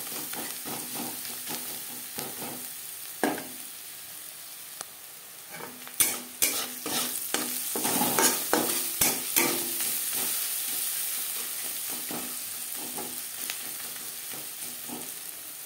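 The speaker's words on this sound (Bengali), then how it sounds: "পেঁয়াজ ভাজা হয়ে এসছে" Onion frying in a pan, steady sizzling under frequent scraping and clacking of a spatula against the metal, the stirring growing busier midway.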